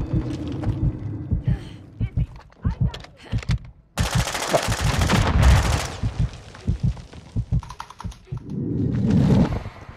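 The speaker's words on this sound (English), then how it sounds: "You are taking effective fire." Rapid bursts of video game gunfire crackle and rattle in a shooter set around the Koschei Complex, with dense automatic volleys and scattered single shots. A radio-style game voice speaks over parts of the action.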